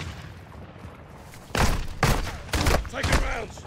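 Gunfire in Call of Duty DMZ arrives as several sharp, loud bursts of shots in quick succession, with quieter game ambience before them and a voice talking in between.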